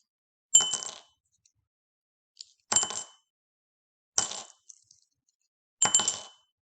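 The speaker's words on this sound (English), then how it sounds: "count back when you hear my pennies drop" Four separate pennies drop one at a time, each a bright metallic clink with a short rattle, spaced about one and a half seconds apart with silence between, close and clear.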